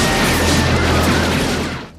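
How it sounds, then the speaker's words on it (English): A grenade explosion in the 1988 film They Live gives a loud, broad blast-like roar with rumbling debris that fades out near the end. "Holy crap, a grenade!"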